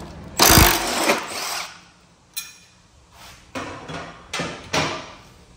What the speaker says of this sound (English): I want to get this blade off